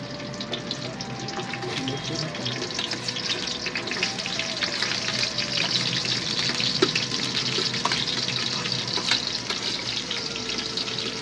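Onion and chili sizzling in hot oil in a home kitchen, a steady dense frying hiss with crackle that continues throughout at close range, with running water in the background and no talk.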